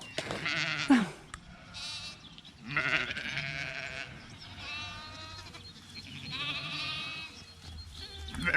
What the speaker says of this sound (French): Et ça, c'est ce qu'on appelle un troupeau de moutons